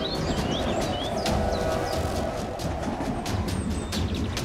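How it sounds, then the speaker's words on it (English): A train approaches on railway tracks near a brewing thunderstorm, giving a loud, continuous rumble with rhythmic clattering and chirping birds throughout. "A train is approaching."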